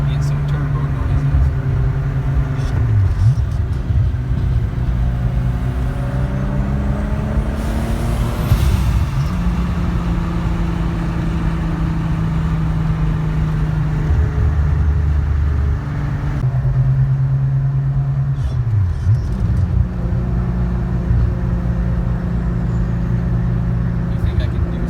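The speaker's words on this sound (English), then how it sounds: "Get some turbo noises." A vehicle engine drones steadily throughout with turbo whistles and several rising and falling pitch sweeps as it accelerates and shifts, heard from inside while a person talks over it.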